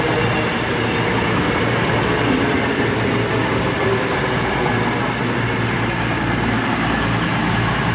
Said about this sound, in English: Departing out is the 1509 to Manchester Piccadilly from Bristol Temple Meads.